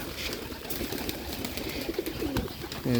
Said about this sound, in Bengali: এখন দেখুন কবুতরগুলো ডাকাডি করতে সব কবুতর খাওয়া খাওয়ার জন্য